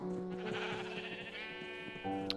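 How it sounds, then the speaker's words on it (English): Minecraft sheep bleat in the game, a string of wavering nasal calls that rise and fall close by, with a brief sharp click at the end. "Shut up, sheep."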